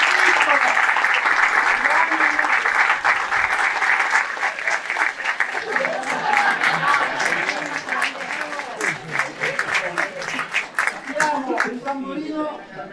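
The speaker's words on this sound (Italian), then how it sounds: "Un applauso al tamburino." A crowd at a historic carnival parade applauds the drummer, a loud dense burst of clapping that slowly thins into scattered claps as voices talk over it.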